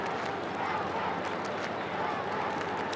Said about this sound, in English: Crowd building.